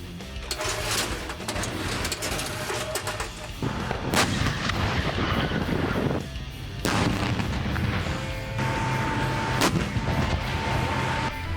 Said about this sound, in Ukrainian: Для враження цілей використовували осколково-фугасний снаряд він завантажувався в автомат заряджання разом із зарядом.